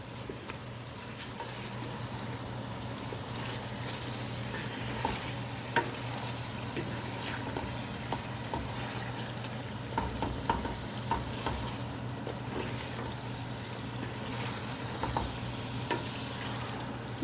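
Chicken pieces being fried and stirred in a pot for yakhni pulao give a steady, moderately loud sizzle with scattered scraping stir clicks, and no one speaks.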